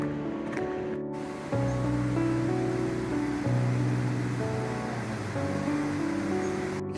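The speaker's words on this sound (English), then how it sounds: "There are lots of small creeks feeding into the main one." Steady rushing creek water in Lamoille Canyon, Nevada, flows continuously with a broad, even hiss and low rumble, no voices over it.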